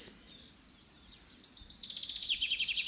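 Birds chirp and sing in quick, high twittering phrases, faint at first and growing busier and louder toward the end.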